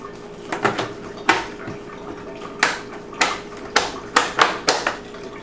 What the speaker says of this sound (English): This lid will seal the bucket, giving us an airtight seal